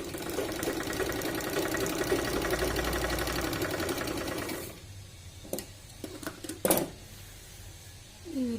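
Sewing machine stitching a blouse, a fast steady mechanical whirr running for several seconds before stopping, followed by a few short clicks and thumps, close and loud.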